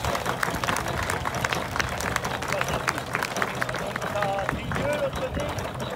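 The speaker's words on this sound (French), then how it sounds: "Donc applaudissez-la bien fort." An audience at the Moissons 2018 harvest festival in Badailhac applauds, a dense, steady wash of many hands clapping that holds at an even level throughout.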